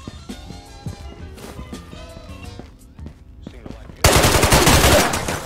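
Gunfire in the Ghosts of Tabor video game, a loud sustained burst of automatic shots that erupts suddenly near the end after quieter movement and footsteps, with a voice talking in the background.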